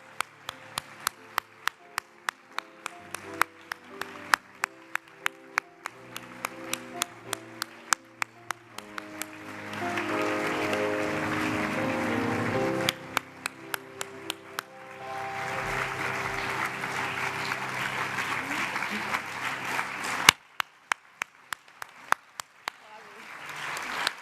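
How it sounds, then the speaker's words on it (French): Audience applause at an evening awards ceremony honouring women, with bursts of clapping swelling into sustained rounds and breaking off between them, mixed with music and a voice. "vous demander de réserver vos plus beaux applaudissements à ces femmes"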